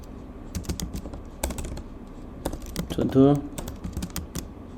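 Computer keyboard typing code, bursts of quick clicky keystrokes in irregular clusters, close and clear, with someone talking quietly between them.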